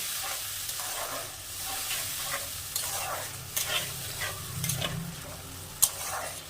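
Mutton masala with ginger-garlic paste and a splash of water stir-fried in a pan, a low steady sizzle with scraping stirs and a sharp clink near the end.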